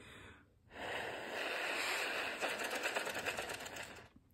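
Repeated quick sniffing breaths in through the nose, like smelling a rose, followed by air blown out, close and fairly quiet, in a calm guided deep-breathing exercise for children.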